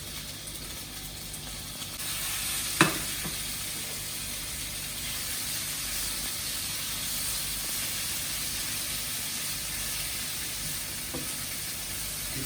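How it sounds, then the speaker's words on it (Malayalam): Chicken frying in a pan after being seasoned with salt and pepper powder, a steady soft sizzle and hiss running throughout, growing a bit louder after the start, with a single sharp tap near the beginning and no voices. "ചിക്കൻ നൈസായിട്ടൊന്ന് ഫ്രൈ ചെയ്തെടുക്കാം."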